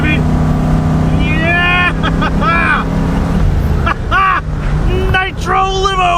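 An abandoned limousine's engine revs hard on nitrous, a loud continuous roar running up and down in pitch, with excited voices shouting over it.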